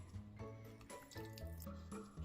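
Ice-cold water is added to minced meat for soft, juicy cutlets, with short splashing and dripping pours in quick bursts, close and clear.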